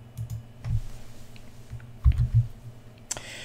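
Keys clacking on a computer keyboard at a Debian root prompt, a few scattered taps then a firmer cluster of presses ending in a sharp enter keystroke, close and fairly loud over a low hum.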